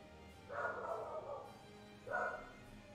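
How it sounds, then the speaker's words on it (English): A dog barks in a video game cutscene where someone is at the door, two short barks about a second and a half apart, moderately loud over a quiet background. "Yeah, that's a dog barking."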